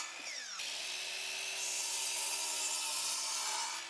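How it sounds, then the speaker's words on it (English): A power drop saw cuts fir framing lumber indoors, its motor spinning up and then holding a loud, steady whine as the blade bites through the wood, close and with no talking. "Then I used the drop saw to make the cuts along the lines."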